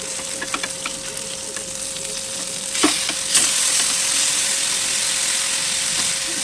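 Chicken leg pieces fry in white oil in a pan over a high gas flame, giving a steady close sizzle with a few sharp clacks and stirring knocks near the middle, and no talk.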